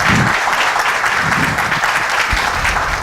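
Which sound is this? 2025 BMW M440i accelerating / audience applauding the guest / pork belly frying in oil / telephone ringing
audience applauding the guest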